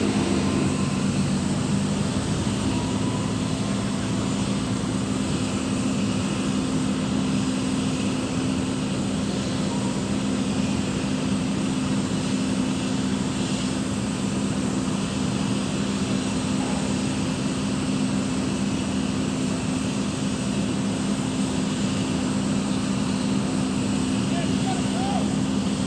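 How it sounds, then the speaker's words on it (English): A Southwest airliner takes off from runway 30 right at San Jose airport, its engines giving a steady, loud, continuous roar with no pauses. "Southwest 4035, San Luis Tower, runway 30 right, clear for takeoff."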